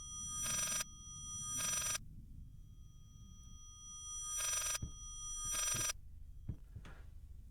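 A reversed telephone ring from the horror game Layers of Fear: two pairs of bright, buzzing ring bursts separated by a quiet gap, each swelling in over low ambient rumble, with faint knocks near the end.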